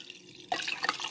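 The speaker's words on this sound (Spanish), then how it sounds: "ahora le voy a agregar 2 tazas grandes de agua otra vez" Water pours from a cup into a bowl of soaked, drained oats, starting suddenly after a quiet moment as a close, splashing, trickling stream.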